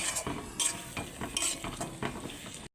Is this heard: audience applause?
no